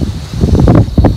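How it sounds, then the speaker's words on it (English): Strong wind roars and buffets the microphone in rumbling gusts on a rainy day in a Philippine province, with a faint rustle like leaves, loud and close for a brief moment. "Look at these strong winds blowing."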